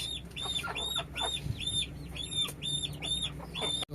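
Chickens in a rural village yard, with repeated high clucks and calls coming in regular bursts over a steady outdoor background, fairly close and moderately loud.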